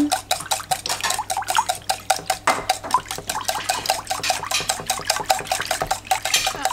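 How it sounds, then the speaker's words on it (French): Eggs being whisked into clafoutis batter in a bowl, fast rhythmic wet slapping and clinking of a utensil against the bowl, close and continuous. "j'ai mis les 4 œufs, on n'a plus qu'à mélanger"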